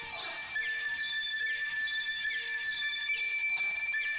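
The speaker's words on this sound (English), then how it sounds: "Annoying screechy sound." Screechy synth sample from Analog Lab, played unreversed at normal pitch: bright, piercing sustained tones ringing high above a thin low bed, steady and loud throughout with slight pulsing swells, no voices.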